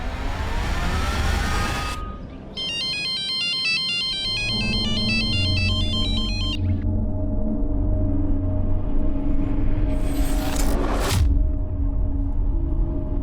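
A phone ringtone chimes in a repeating electronic pattern for a few seconds over a low engine rumble, followed by a car revving and passing close by.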